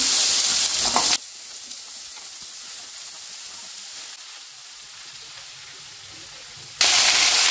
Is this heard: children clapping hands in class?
no